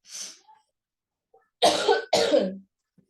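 A single short cough, then two harsh, forceful coughs in quick succession, close to the microphone in an otherwise quiet room.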